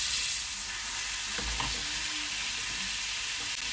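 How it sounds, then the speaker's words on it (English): Butter melts in a small saucepan with a steady, soft sizzle and faint crackle that holds evenly throughout, no voices present. "you want to start by adding about 1 tablespoon of butter to a small saucepan"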